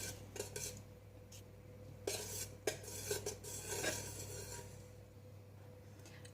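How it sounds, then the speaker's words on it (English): A utensil stirs beeswax polish ingredients melting in a metal pot, with soft scraping and clinking strokes in an irregular rhythm over a low background hum, close and quiet, with no talking. "Give them a bit of a stir. And they will gradually melt."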